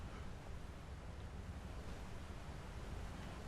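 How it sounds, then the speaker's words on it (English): Waterfall in the video game Skyrim, a steady, faint broadband rush of falling water that continues evenly without pause and stands alone. "This just goes to the waterfall"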